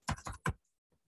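Keyboard typing while entering an activity description into a village reporting app: three quick bursts of keystrokes close up and fairly loud, then near silence with a faint tap at the end.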